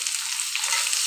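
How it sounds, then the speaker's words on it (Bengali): Chopped onion frying in a pan with potatoes, a bright, even sizzle of hot oil, close and steady with no talking. "এবারে পেঁয়াজ কোচা দিয়ে দিলাম একটু পরিমাণে বেশি"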